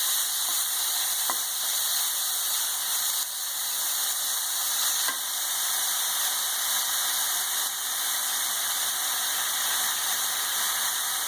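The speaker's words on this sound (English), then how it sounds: "Now we saute the onions." Chopped onion sizzles and fries in a little hot oil in a pan while being sautéed, a steady close hiss with a few faint stirring taps throughout.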